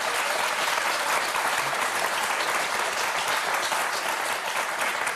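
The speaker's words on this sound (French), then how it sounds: "on peut l'applaudir, c'est un beau score" Dense, steady studio audience applause on a television show, loud and unbroken throughout.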